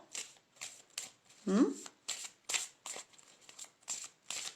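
Tarot-style oracle cards are shuffled in soft, repeated riffling bursts, close and fairly quiet, while someone talks softly over them.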